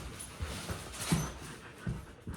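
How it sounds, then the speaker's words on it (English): A dog tugs at a toy in a game of tug of war, giving soft growly panting and whimpery noises with scattered thumps, fairly close and at a low level. "And my dog is playing tug of war with me right now."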